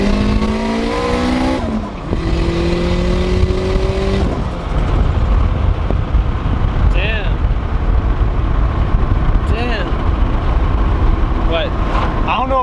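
Boosted K20 Honda Civic engine on a dyno, loud and close, pitch climbing in first gear then holding a sustained high-revving roar, with voices talking over it.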